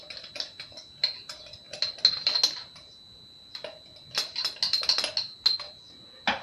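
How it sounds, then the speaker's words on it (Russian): A spoon scrapes and clinks against a bowl in irregular bursts while stirring a spice mix of pepper and sugar, with a steady high metallic ring underneath, close and moderately loud. "Тщательно размешиваем."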